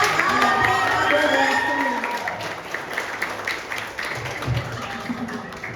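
An audience at the final of a provincial museum quiz competition in North Kalimantan breaks into steady, moderately loud applause, with a host's voice heard at the start.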